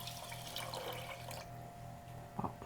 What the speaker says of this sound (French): J'ai un peu de l'eau ici. Je vais l'ajouter.